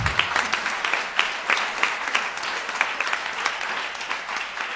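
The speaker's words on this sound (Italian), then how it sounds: "Vi chiedo un applauso" An audience at a live poetry and music event applauds steadily, dense continuous clapping from a crowd heard at moderate distance, even in level throughout.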